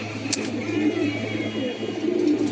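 A pigeon coos close by in soft, low, throaty rolls, repeating in a couple of phrases over a faint background hum.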